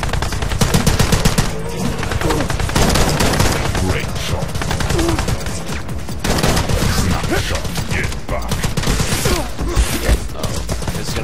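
Dense gunfire in a video game crackles almost nonstop, loud and close, with rapid bursts layered over each other, and a voice talks intermittently beneath the shooting.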